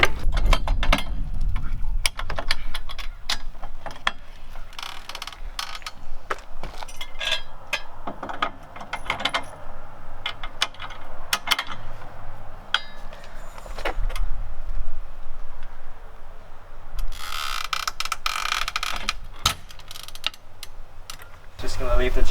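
A jack raises a Tesla Model 3/Y into the air after its lug nuts are loosened, giving a sustained mechanical grinding and ratcheting drone with intermittent clicks and creaks, fairly close and steady, with no talking over it.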